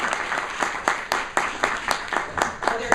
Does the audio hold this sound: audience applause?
yes